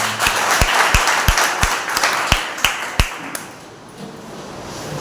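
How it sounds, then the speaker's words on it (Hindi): A small church congregation at a Sunday service claps loudly, a few sharp, evenly spaced hand claps standing out over softer clapping before it dies away to near quiet. "आइए हम उस पवित्र और जीवित परमेश्वर के लिए एक बार जोरदार तालियां दें"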